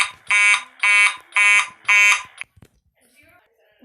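A fire alarm sound made in ScratchJr sounds four loud, harsh buzzing beeps in an even rhythm, each about half a second long, then stops, leaving a few faint clicks.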